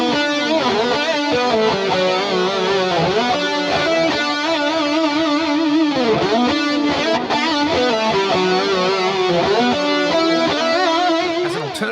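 Sustained electric guitar lead, distorted and shimmering with chorus and reverb, playing continuous melodic lines at a steady loud level with no voices.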